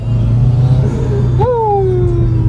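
A turbocharged Honda Civic ESi with a full HKS exhaust to the muffler revs up loudly and near, its engine note climbing sharply then easing off over a steady idle rumble.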